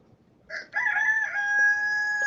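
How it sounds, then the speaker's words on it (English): A rooster crows once, loud and close, a long drawn-out cock-a-doodle-doo rising after a short opening note, with quiet surroundings. "That's fucking rooster."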